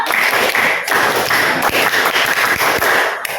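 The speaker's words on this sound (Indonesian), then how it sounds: "Satu kali tepuk pramuka." A classroom of students does one round of the scout clap, a short burst of rhythmic group clapping, dense and loud, with a few sharper accented claps standing out and little talk.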